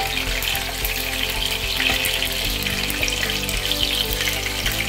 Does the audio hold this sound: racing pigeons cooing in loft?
no